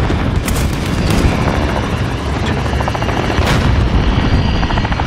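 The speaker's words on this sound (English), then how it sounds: "Friendly chopper gunner on Overwatch." A friendly chopper gunner helicopter in Call of Duty Modern Warfare roars steadily throughout, its dense rotor and engine noise overlaid with bursts of heavy gunfire and booming impacts, loud and close with no talk.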